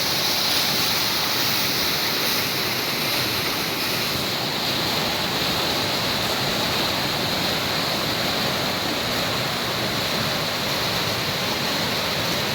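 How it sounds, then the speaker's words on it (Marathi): Continuous loud rush of water falling over the Phadke weir near Naneghat, a dense steady roar that never lets up, heard alone without any talking. "कसं पाणी पडतंय पा लक्ष वेधून घेणारच पाणी पड़ते तो पहा"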